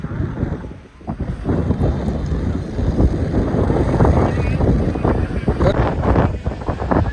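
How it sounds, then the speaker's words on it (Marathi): Strong, gusty wind on a hilltop with wind turbines roars steadily into the microphone, buffeting it with low rumbling blasts throughout, with no other clear sounds. "इथं वारा असं डायरेक्ट असं वारा लाट आल्यासारखं वारा यायला लागला"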